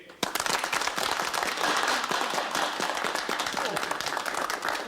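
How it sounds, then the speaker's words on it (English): An audience claps loudly and steadily for a Russian visitor, a dense, continuous round of applause that starts abruptly and holds at an even level throughout. "Applause for the Russian visitor."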